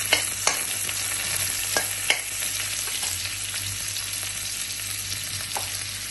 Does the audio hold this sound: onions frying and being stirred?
yes